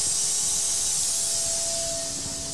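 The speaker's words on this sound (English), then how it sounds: "there is a pneumatic valve that I can just open and close" A pneumatic valve on a zero-point clamping system for a DATRON milling machine is opened, releasing a steady, broad air hiss that runs the whole time at moderate loudness with a faint tonal whine underneath.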